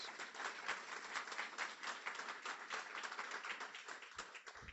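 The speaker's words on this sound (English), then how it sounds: "a warm round of applause for the sponsors" A warm round of audience applause for the sponsors at a guide dog graduation ceremony, dense steady clapping from a large crowd sustained throughout before tapering slightly at the end.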